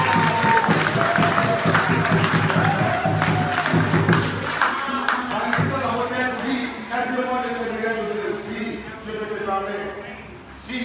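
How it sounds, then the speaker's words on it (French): A church congregation at a Sunday service in Paris, loud clapping and cheering for the Lord, a dense, sustained roar of applause with voices mixed in, easing slightly toward the end. "Est-ce qu'on peut acclamer le Seigneur?"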